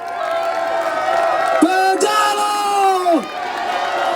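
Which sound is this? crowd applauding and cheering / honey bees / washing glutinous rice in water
crowd applauding and cheering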